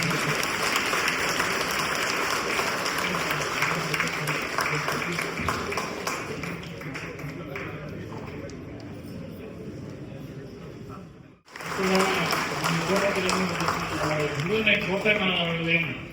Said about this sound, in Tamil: ஒரு பலத்தை கரகோஷங்கள் வருகிறது